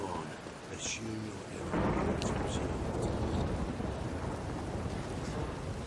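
Thunderstorm in The Witcher 3 Wild Hunt, a rumble of thunder swelling into continuous heavy rain noise, with a voice speaking early on.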